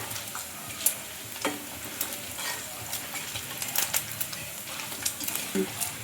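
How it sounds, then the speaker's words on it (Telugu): Sago pearls fry in hot oil with a continuous crisp sizzle, broken by scattered small pops and light clicks from stirring. "మనకి సగ్గుబియ్యం వేగడానికి 1 నిమిషం టైం అయితే పడుతుందండి"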